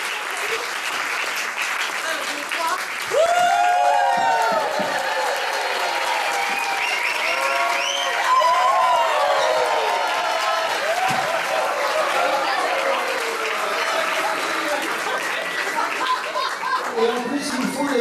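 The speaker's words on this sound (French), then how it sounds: "On peut vraiment les applaudir aussi très fort, très très fort." Sustained audience applause and clapping at an improv comedy show, a dense steady wash of hands from a large crowd lasting throughout, with scattered cheers and children's voices mixed in.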